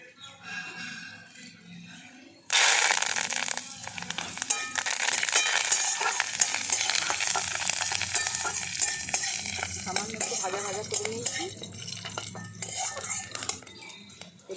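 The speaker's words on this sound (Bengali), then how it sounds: "তেলের মধ্যে দিয়ে দিচ্ছি সর্ষে আর দিয়ে দিচ্ছি কারি পাতা" Mustard seeds and curry leaves drop into hot oil for a drumstick vegetable recipe, setting off a sudden loud sizzle that holds steady, mixed with utensil clinks and stirring against the pan.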